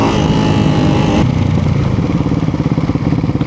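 A Ducati Hypermotard 698 RVE single-cylinder supermoto revs loud and close, its engine note pulsing hard and then shifting into a rhythmic throbbing as it pulls away, with no voices over it.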